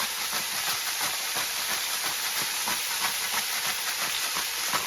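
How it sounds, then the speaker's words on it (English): Meat browning with spices in a hot pan, giving a dense, steady sizzle and hiss that holds unbroken throughout, close and fairly loud, with no talking. "I like to add this in as the meat is still kind of browning"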